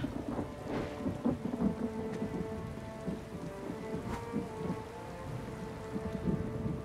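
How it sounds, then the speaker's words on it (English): Steady rain with rumbling thunder in the video game ESO Dragonhold, a continuous downpour with low rolls of thunder throughout, no voices. "It's still raining here."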